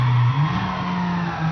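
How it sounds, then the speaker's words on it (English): A car drifting in the Midnight Club LA video game, with a loud, steady engine roar and a sustained tire skid running through the whole stretch, no talking. "nice drifting over there"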